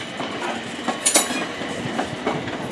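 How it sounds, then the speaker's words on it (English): A Class 455 electric train runs through Clapham Junction, giving a steady rolling rumble with rhythmic wheel clicks over rail joints and a brief high squeal, all heard close by without speech. "Another 455 departing for Waterloo, racing it, but that one's winning."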